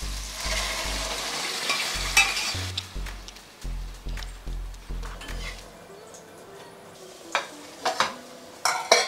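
Lentils are stirred in a pan with fried onion and tomato, the spoon knocking and scraping in a series of quick strokes over a soft sizzle, followed by a few sharper clinks of utensils.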